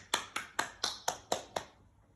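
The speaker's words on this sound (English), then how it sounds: "I'm going to give you a round of applause" A short round of applause for young schoolchildren, six evenly spaced sharp claps at a steady rhythm, faint and close, ending after under two seconds.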